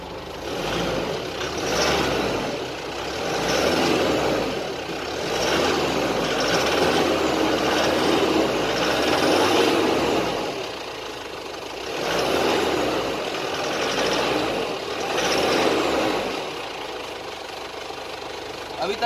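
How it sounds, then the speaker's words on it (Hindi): A Ford Endeavour SUV engine is revved again and again, its roar swelling and falling back to a rumbling idle in repeated waves, loud and nearby. "हम दो चार बार रेस देंगे"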